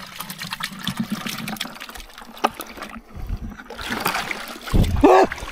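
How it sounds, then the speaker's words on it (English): A bucket scooping dirty river water while yabbying, giving a brief splash and slosh among rustling and handling noises, with a louder gush near the end. "I went to scoop some water, but the bucket stopped."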